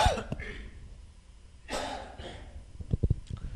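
A single cough from a lecturer with an itchy throat, followed by a couple of short throat sounds, close to the microphone in a quiet room.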